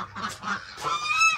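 Geese honk close by in a short burst of loud, repeated nasal calls, one call running into the next, with no talk over them.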